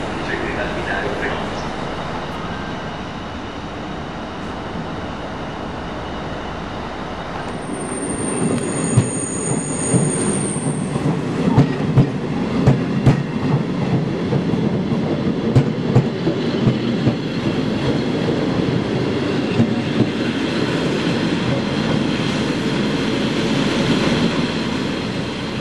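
Trenord ALn 668 diesel railcars manoeuvre on station tracks with a constant loud diesel rumble, a high wheel squeal partway through, and repeated clattering clicks as they roll over the rails.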